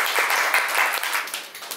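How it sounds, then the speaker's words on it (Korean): A short burst of audience clapping at a small birthday-party concert, brisk and fairly close, rising quickly and starting to fade within a couple of seconds. "박수 한번 와주세요"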